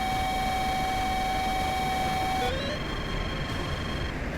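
A steady high electronic tone of a Sidewinder missile seeker in the DCS World flight simulator drones over jet engine rumble, then drops and shifts pitch halfway through as the background noise continues.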